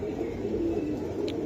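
Chuina pigeons at a bird market give a soft, continuous cooing. The murmur is steady and close, with a faint chirp near the end and no voices.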